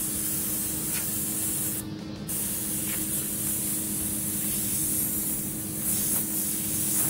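Continuous airbrush spraying paint onto a car while freehand painting realistic flames, a steady close hiss with one brief pause.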